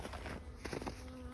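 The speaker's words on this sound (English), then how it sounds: "Whoa, nice bees." Bees hum faintly around a beehive at a winter apiary, a soft, continuous buzz with brief swells as individual insects pass close.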